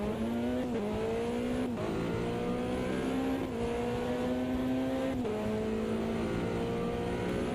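Race cars in the Automobilista 2 racing game run a start with all-wheel-drive physics, a steady engine drone rising through the gears with repeated shift dips and faint tire noise.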